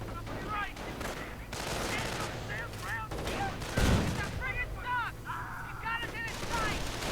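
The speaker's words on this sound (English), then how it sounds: "strafing run, clearing out the MG42, pinning down the Grenadiers" Machine-gun fire, including an MG42, rattles during a strafing run in a World War II strategy game, with dense bursts of gunfire, a heavy impact midway and chirping effects over a continuous battle din.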